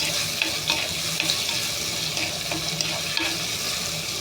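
Tomato and mango sautéing in a pan for Kerala fish curry, a steady broadband frying sizzle with soft scraping stirs and small clinks, close and continuous with no talk.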